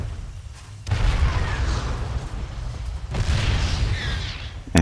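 Heavy booming shots from a sieged tank in the StarCraft real-time strategy game, two deep blasts a couple of seconds apart with rumbling tails and a sharp pop at the end.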